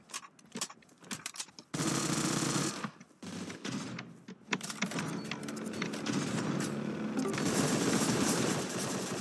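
Rapid shotgun blasts and gunfire from the top-down battle royale game Surviv.io, a few sparse shots at first, then a dense, loud, continuous stretch of firing and clatter with no talking.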